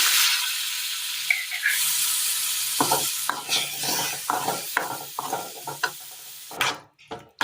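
Curry pieces fry in a pan for a Kerala curry, making a steady hiss at first, then a run of firm rhythmic stirring scrapes and clatters over the sizzle, ending abruptly.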